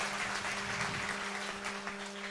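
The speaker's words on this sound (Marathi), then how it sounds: "जरा टाळ्या वाजवा बाळापूर करता महाराज." An audience claps steadily through a kirtan gathering at a Shyam Baba death-anniversary festival, a dense continuous patter of hands over a low, steady electrical hum.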